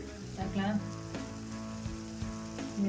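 Boiled noodles tossed in a hot pan with sauce and vegetables, a loud close sizzle punctuated by several metallic stirring clanks and scrapes.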